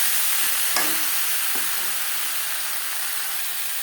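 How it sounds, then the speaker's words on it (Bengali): Potatoes fry with tomato and cumin in a pan, giving a steady, close sizzling hiss with a sharp stirring scrape near the start and another softer one shortly after. "আলুর সাথে টমেটো ও জিরেগুলো বেশ ভালো করে মিক্স করে দেবো"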